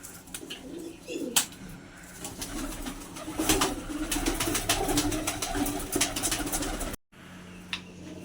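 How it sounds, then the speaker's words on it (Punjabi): Punnu-breed pigeons coo in a loft, a steady soft murmur of calls over rustling and background noise, with a sharp knock near the start and a short cut to quiet near the end. "ਤੇ ਆ ਮਿੱਤਰੋ ਕਬੂਤਰ ਪੁੰਨੂ ਵਾਲੇ ਕਬੂਤਰਾਂ"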